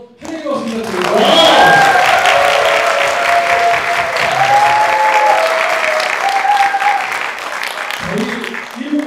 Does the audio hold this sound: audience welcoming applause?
yes